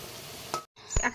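Potato bhaji sizzling in a hot pan, a steady frying hiss broken by a brief gap and then stirring scrapes, heard close and fairly loud with no one talking.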